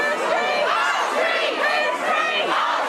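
Hundreds of people gathered around the bandstand at a Clapham Common vigil turned protest, a dense, steady crowd roar of many voices with rising shouts and chanting, loud and continuous throughout.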